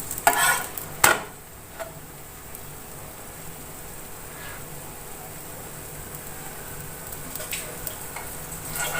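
Layered parotta flatbread sizzles on a hot pan. A couple of sharp clattering knocks come early as it is flipped, then a soft, steady frying hiss carries on alone.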